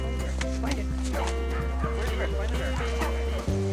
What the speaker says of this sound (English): Karelian bear dogs scare the bear far